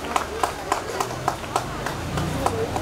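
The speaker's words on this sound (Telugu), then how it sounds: "గట్టిగా సార్ క్లాప్స్ అమ్మా సాయి దుష్యంత్ కి." An audience at a school skill day event claps for a student in a slow, evenly spaced series of about ten claps, fairly close, with a voice speaking faintly underneath.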